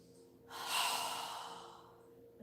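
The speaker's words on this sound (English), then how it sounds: "exhale with our mouth open wide and a strong exhale breath" A single strong exhale through a wide-open mouth during a yoga breathing exercise, a close, breathy whoosh that swells and slowly fades over about two seconds.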